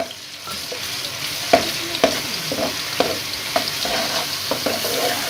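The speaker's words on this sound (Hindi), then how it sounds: "अब हम इसमें अदरक लहसुन पेस्ट डाल देंगे और इसको लाइट ब्राउन करेंगे।" Ginger garlic paste frying in hot ghee, a steady close sizzle broken by sharp clinks and scrapes of a spoon stirring the pan at irregular intervals.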